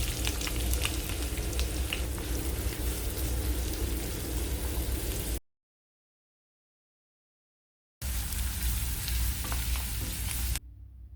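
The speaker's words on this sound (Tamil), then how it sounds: "கடாயில் கொஞ்சமாக நல்லெண்ணெய் சேர்த்துட்டு வெங்காயம் சேர்த்து வதக்கலாம்" Onions sauté in sesame oil in a kadai with a loud, steady frying hiss and scattered crackles, broken by a few seconds of complete silence before the sizzling resumes, with no voices.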